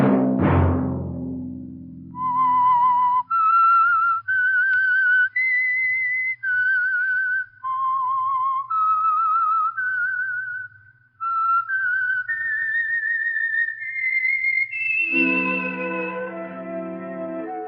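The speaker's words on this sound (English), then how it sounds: "Let that whistle be your signal for the Signal Oil program, The Whistler" A clear, melodic whistled theme for The Whistler radio show, a run of sustained pitched notes that climb gradually, heard alone and loud before a music swell joins near the end.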